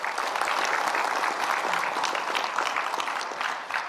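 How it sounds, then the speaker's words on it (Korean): Steady, dense applause from a forum audience fills the room, loud and continuous throughout with no voices rising above it. "다시 한번 큰 박수 부탁드립니다"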